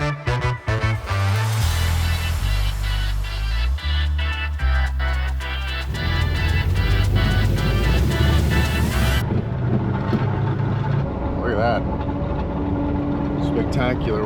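Interior road noise inside a moving 1979 Porsche safari camper car, a steady loud low rumble and wind roar from start to finish, with a voice talking over it for much of the time.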